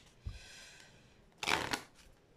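Tarot deck cut by hand, a soft slide of cards followed by a brief close riffling flutter, quiet and alone.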